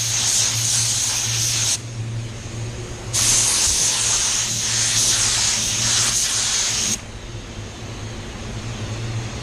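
A paint spray gun applying Mazda Soul Red Crystal hisses in steady bursts, loud and close, with short pauses between passes and a low mechanical hum running underneath.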